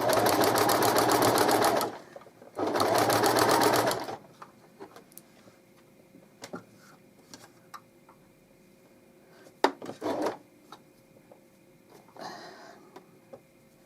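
A sewing machine stitches a double-sided baby blanket in two loud, steady runs of a couple of seconds each, followed by quiet handling with scattered soft clicks and taps.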